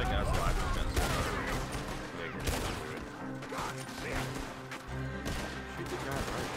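Gunfire in Red Dead Redemption 2, a fusillade of sharp shots and bursts mixed with clatter and background game sound, fairly close, with voices talking over parts of it.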